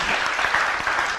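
Audience at a meditation talk breaks into applause, a brief, even wash of many hands clapping together at moderate volume without voices.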